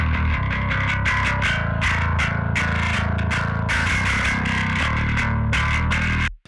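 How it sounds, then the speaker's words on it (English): A heavily distorted bass riff plays loud and gritty with a thick, saturated buzz and sustained rhythmic notes, then cuts off abruptly at the end. "So here we add the distortion, the amount of distortion"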